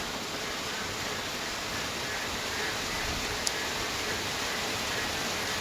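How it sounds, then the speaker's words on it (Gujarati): Heavy rain pours steadily near the flooded Ambika river, a dense, even wash of noise with no break across the whole stretch. "તમારા ગામમાં આવો વરસાદ ચાલુ હોય તો કોમેન્ટ કરજો કે કેટલો વરસાદ ચાલુ છે"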